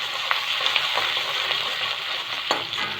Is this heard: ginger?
yes